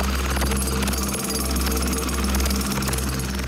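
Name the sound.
jackhammers breaking a concrete slab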